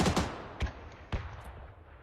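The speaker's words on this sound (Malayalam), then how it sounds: "അയാളെ കയ്യിൽ നിന്ന് ഒരു വെടി പോയി" Gunfire in the PUBG battle royale video game, a quick burst of sharp cracks followed by three or four spaced single shots, crisp and fairly near over faint background ambience.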